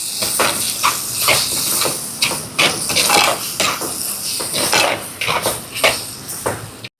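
A spoon scrapes and clinks against a pan while softened tomatoes with chili powder and pepper are stirred, giving irregular close metallic scrapes and taps over a soft sizzling hiss.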